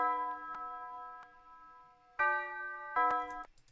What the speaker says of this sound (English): just a normal church bell